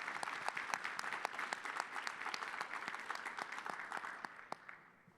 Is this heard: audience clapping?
yes